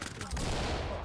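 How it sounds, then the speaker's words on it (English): Rapid gunfire through a window in Ready or Not, a dense, muffled burst of shots with heavy low rumble, fairly faint and brief. "He's shooting through the window."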